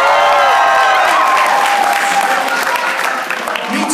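A student crowd at a Penn State comedy showcase bursts into loud, sustained applause and cheering, dense clapping that fills the room and tapers slightly at the end.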